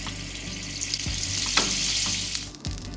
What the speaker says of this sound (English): While we sear the tuna